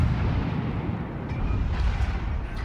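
Heavy naval gunfire in World of Warships, with several battleships and a Russian Bogatyr cruiser shelling one target, booming as a dense, continuous rumble of overlapping blasts without a pause.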